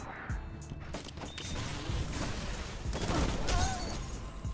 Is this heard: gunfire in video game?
yes